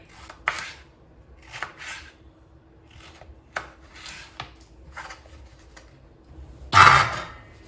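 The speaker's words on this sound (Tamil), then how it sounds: "இதே மாதிரி எல்லா மாங்காயும் நறுக்கிக்கணும்." A knife cuts through firm raw mangoes in scattered, irregular strokes with quiet pauses between, ending in a louder, longer scraping cut.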